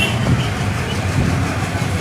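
Salem Yesvantpur Express rumbling out of Carmelaram railway station, a steady close low roar of wheels and carriages with faint rhythmic rail clatter and no voices.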